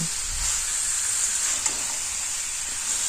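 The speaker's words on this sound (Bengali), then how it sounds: "আলু দেওয়ার পর কয়েক মিনিট এভাবেই ভালো করে কষিয়ে নেব" Potatoes and green jackfruit fried in a pan for a vegetarian jackfruit curry, giving a loud, continuous hissing sizzle that holds steady throughout, with faint spoon movement underneath.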